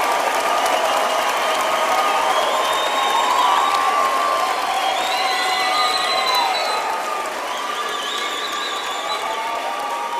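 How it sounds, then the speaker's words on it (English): Audience at a university autumn graduation ceremony for the health sciences faculty applauds and cheers for the graduates, with dense, sustained clapping and crowd noise that fills a large hall for about ten seconds. "Let us give our graduates a big hand for their hard work and perseverance."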